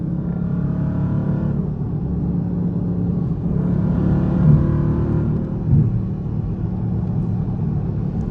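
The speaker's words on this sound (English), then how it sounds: "this little BMW low key moving" A small BMW car gives a steady low engine rumble throughout with a faint rise in revs, moderately close and alone with no talk.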